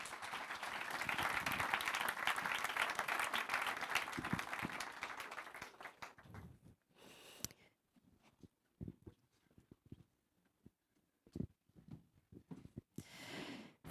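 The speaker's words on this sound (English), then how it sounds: "Please do give them a warm round of applause." Audience applause at a think tank conference on infrastructure, a dense wash of clapping for about six seconds that then thins into scattered, isolated claps and quiet room noise.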